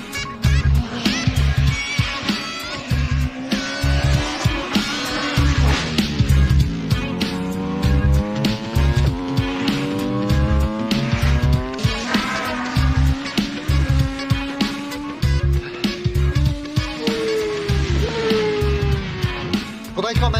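A taxi car speeds along with squealing tires and rising, falling engine revs, loud and close over a steady pulsing beat throughout.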